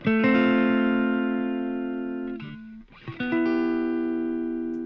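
A sustained electric guitar patch chord thick with delay, reverb and distortion rings out, briefly breaks off, then a new chord swells back in and holds.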